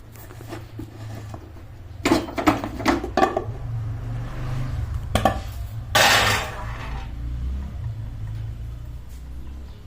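A pressure cooker of cooked rice being opened, with a series of metallic clanks and knocks from the lid and pot, then a short rushing burst, all over a steady low kitchen hum.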